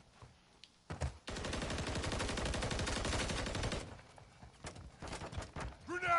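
Rapid automatic gunfire in Call of Duty Modern Warfare 3 rattles in a sustained burst of a few seconds, then gives way to scattered single shots and a brief voice near the end.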